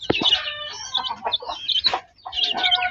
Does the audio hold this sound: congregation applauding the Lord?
no